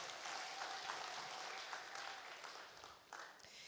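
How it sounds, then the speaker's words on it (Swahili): Applause from a church congregation at a Kikuyu Sunday service fills the space with a steady, dense wash of clapping that holds for several seconds, moderately distant and without speech over it. "Tumpigie makofi."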